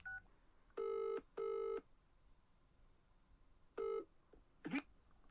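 Telephone ringback tone heard on an outgoing cold call, two long rings in quick succession followed by a third after a pause, clear and alone, with a faint short electronic chirp near the end.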